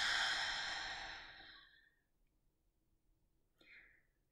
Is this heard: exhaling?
yes